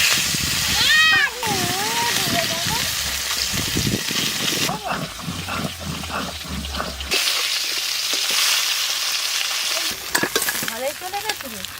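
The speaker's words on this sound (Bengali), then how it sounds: "এবার কই মাছ ভাজবো।" Koi fish frying in oil in a village kitchen, a steady sizzle running through the clip beneath people talking close by.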